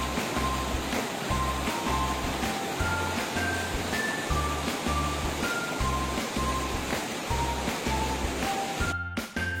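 River water flows steadily beneath a riverside cafe with tables built over the stream at Sentul, Bogor, a constant broadband rush. Repeated low thumps and faint high tones sit alongside it, with a brief clatter near the end.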